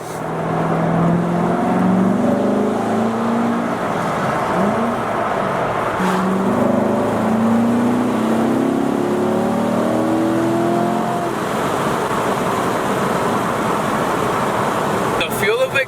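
A Chevrolet C7 Corvette engine rev-matches on downshifts, its revs rising and falling in steady harmonic sweeps, loud and close under cabin noise and some talking.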